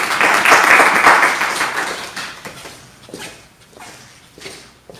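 A Bible study group claps in a dense burst of applause that fades after a couple of seconds, leaving scattered claps and faint voices.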